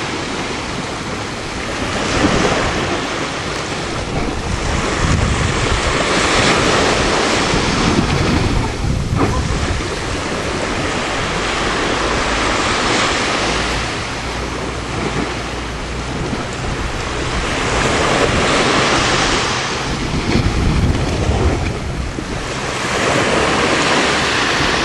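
Ocean waves surge and wash up a beach in a steady, continuous roar of surf, swelling and easing in loudness with some wind buffeting the microphone; no voices are heard.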